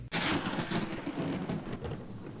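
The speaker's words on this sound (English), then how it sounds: "The clouds laughed, and thunder was heard." Thunder as a sound effect in a told story, a steady low rumble rolling continuously with a rain-like hiss above it, fairly loud and sustained throughout with no voice.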